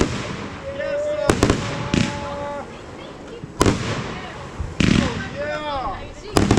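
Backyard July 4th fireworks go off in several sharp, loud bangs and crackles, with whistling streaks between them, while people nearby talk and cheer.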